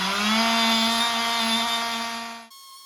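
An oscillating multi-tool buzzes steadily against a metal canister that holds a metal part in mineral spirits parts cleaner, a loud constant whine that stops abruptly near the end and leaves a faint ringing hum.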